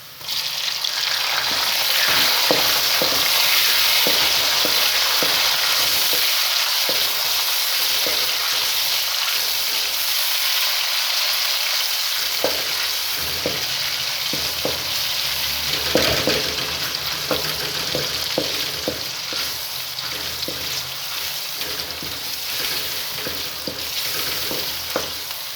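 Browned onions and tomato fry in a pan for sabut masoor dal, a steady loud sizzle running throughout with repeated soft clinks and scrapes of stirring, no voices.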